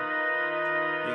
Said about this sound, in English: you can hear that organ is kind of self-oscillating in the background